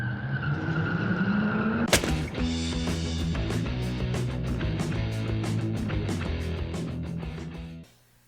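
A pre-2014 Ford engine with a P0016 timing-chain fault cranks with a rising whine, catches with a sharp burst, then runs loudly and steadily with a clattering, ticking texture before cutting off abruptly.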